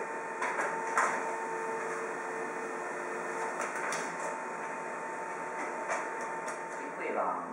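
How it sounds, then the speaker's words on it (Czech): Office printer running through a contract printout, a steady mechanical whir with faint clicks and feed noises, ending in a short rising paper-eject sweep, close and moderately quiet. "Nyní zmáčknu na tiskárně jeden čudlík a smlouva vám vyjede přímo do ruky."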